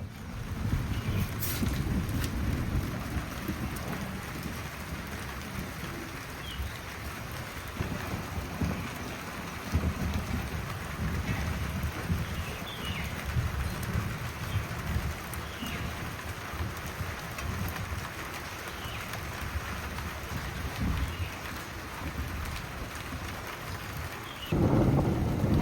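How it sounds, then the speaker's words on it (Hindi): Rain pouring steadily outdoors with low rumbling thunder rolling underneath, a continuous heavy wash that swells again near the end, no voices. "बारिश शुरू हो चुकी है।"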